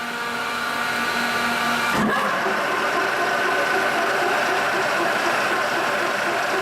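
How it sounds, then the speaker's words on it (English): Hydraulic vise motors on a G&L HDB boring mill run at high speed, a steady loud mechanical whine and hum with a brief thump near two seconds, otherwise continuous. "Basically running the motors at 1800 or 900 RPMs."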